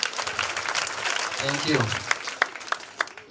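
Applause at a family conference, building claps that become distinct sharp slaps near the end, with someone speaking briefly partway through.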